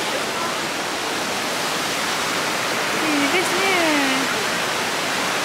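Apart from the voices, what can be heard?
waterfall near a university mosque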